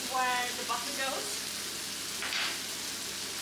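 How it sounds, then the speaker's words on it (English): Garlic sizzles in melted butter in a pan, a steady close hiss of frying, with a voice heard briefly at the start. "I'm gonna put the garlic where the butter goes."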